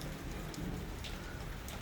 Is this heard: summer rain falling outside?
yes